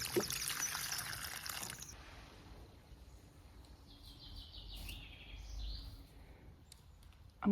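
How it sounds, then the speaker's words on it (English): Water pours and trickles into an outdoor trough set out for wildlife, a soft steady splashing for most of the stretch with faint birdsong in the background. "I'm also going to fill up a little bit of this water trough for the wildlife"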